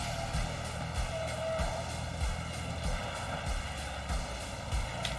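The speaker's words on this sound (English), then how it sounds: "a helicopter keeps strafing the deck" Helicopter strafing a ship's deck in the Marvel Ultimate Alliance video game: a steady, loud mechanical drone with rotor-like rhythmic pulsing and occasional thumps, continuing throughout with no speech.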